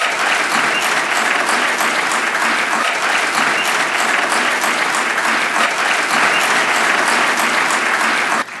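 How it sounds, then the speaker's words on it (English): Sustained, loud round of applause from a dinner audience at a Texas Supreme Court historical society banquet, steady dense clapping throughout that cuts off abruptly at the end. "I think we need to begin by giving another round of applause for Justice Ken Wise and the great work that"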